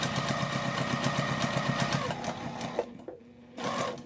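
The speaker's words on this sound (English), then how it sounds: "now I'm just sewing along that edge." Sewing machine running steadily while stitching along the edge of a tote bag, a fast rhythmic mechanical whir that stops briefly near the end and then resumes.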